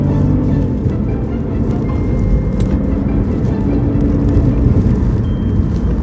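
A BMW with an N52 engine is driven hard through corners, its engine droning loud and steady from inside the cabin, with dense road and wind noise and no clear breaks.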